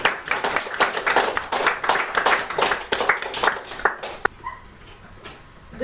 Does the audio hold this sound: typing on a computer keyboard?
no